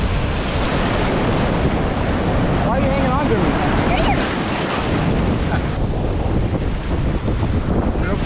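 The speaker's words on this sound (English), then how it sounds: "Waves are much bigger today." Ocean surf breaks on the Gulf Shores beach as a steady, loud wash of waves mixed with heavy wind rumble on the microphone, while people talk briefly nearby.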